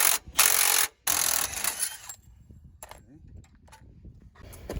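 An 18 mm socket wrench works a bolt on a Dodge Charger R/T 5.7 rear suspension, giving two bursts of loud mechanical rasping, then quieter scattered clicks and taps of tools in a workshop.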